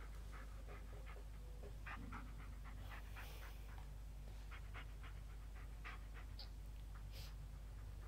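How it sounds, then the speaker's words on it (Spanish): A dog in the video game Blair Witch pants in a quick, steady rhythm of soft breathy puffs, close but faint over a constant low hum, with no talk. "Lo de este perro no es normal."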